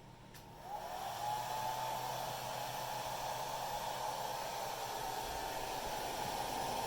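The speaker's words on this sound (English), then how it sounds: "I'm going to turn on the hair dryer here on the lowest setting." A hair dryer switched on at its lowest setting gives a steady, even blowing hiss with a soft whine that starts about a second in and runs unbroken at moderate level, with no talking.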